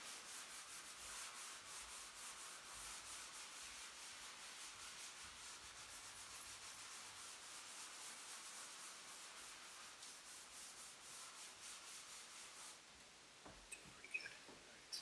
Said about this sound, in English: Sanding over here, did a pretty good job.